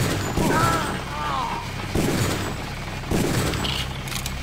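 Gunfire in Deus Ex aimed at a helicopter: several loud, dense bursts of shots with booming impacts, over game noise and a voice.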